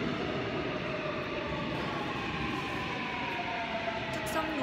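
Subway train running through Isu station in Seoul, a steady loud rumble with whining tonal hum throughout, close and continuous with no clear speech.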